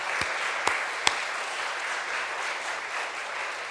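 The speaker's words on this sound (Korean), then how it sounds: "우리 박수로 환영하게 하겠습니다" A congregation claps steadily during a church service in a large room, a dense wash of applause with a few sharp individual claps standing out early on.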